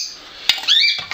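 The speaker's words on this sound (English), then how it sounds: "You can hear the birds in the background." Pet birds in a home kitchen let out a sharp squawk, then a rising, warbling squawk call a moment later, fairly close and alone.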